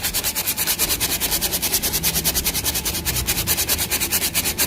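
Close, steady hand sanding across old baroque altarpiece wood to blend a crack, quick hissing strokes repeating evenly back and forth with no talking.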